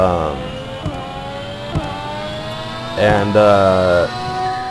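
Lamborghini Veneno engine in Roblox Vehicle Simulator, a tonal game-engine whine that rises in pitch and swells briefly with revving, with speech over it.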